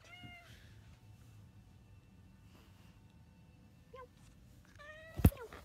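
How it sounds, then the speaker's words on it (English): A house cat meows several times, a few short, fairly quiet cries spread out over a near-silent room, ending with a sharp, louder yowl and a bump. "Bad cat."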